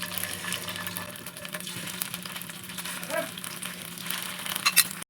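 Cornflour-coated marinated chicken fries in a pan with a steady, soft sizzle and crackle that holds throughout, ending in a few sharper clinks near the close.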